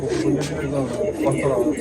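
A pigeon coos softly in a loft, a low murmuring call beneath men chatting nearby.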